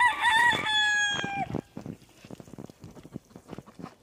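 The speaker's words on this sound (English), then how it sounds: "We have a lot of roosters." A rooster crows once, loud and close, in a long drawn-out call that ends abruptly. Scattered clucks and rustling from farm fowl follow at a lower level.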